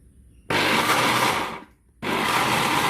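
A blender grinds soaked soybeans for making tofu, roaring loud and steady in two bursts with a short pause between them.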